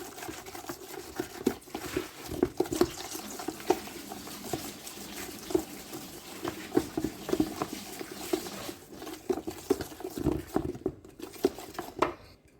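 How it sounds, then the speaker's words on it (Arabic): A wooden stick stirs a thick soap and potato mixture, making soft irregular wet slaps and squelches at close range with quiet gaps between strokes. "تفضلوا تقلبوا بالشكل دوت كده بعصايه"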